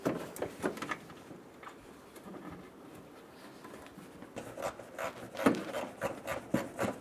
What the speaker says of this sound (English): We're going to reach through the fender and install the 10mm bolt into the side of the headlight.